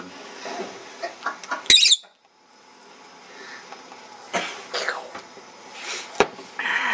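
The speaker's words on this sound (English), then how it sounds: "Attack the bird." A pet lovebird gives sharp, scattered chirps and squawks close by, with one loud burst near the start and more later. Indoor handling noises and quiet gaps come between them.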